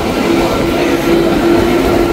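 A Berlin U-Bahn metro train near the Karl-Marx-Allee station rumbles loudly and close by, with a thin sustained wheel whine over the dense rolling noise for a couple of seconds.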